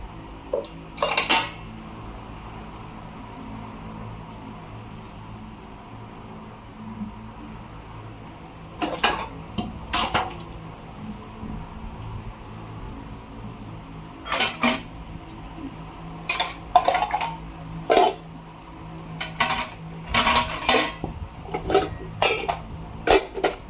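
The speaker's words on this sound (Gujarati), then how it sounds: "વાસણ ઘસવા બેસવાનું છે" Dishes, pots and utensils being washed and scrubbed, with scattered clinks and clatters of metal and cutlery in irregular bursts over a quiet background, growing busier toward the end.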